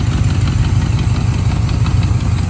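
A 1998 Dax AC Cobra with a 3.5 litre engine idles while still cold, giving a loud, constant low rumble with a fine rhythmic pulse and no talk over it.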